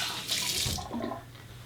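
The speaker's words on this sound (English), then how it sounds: "warm the bowl up with some hot water." Hot water runs from a tap into a shaving bowl, a steady splashing stream that fills the short moment closely and alone, with a slight change in tone as the bowl takes on water.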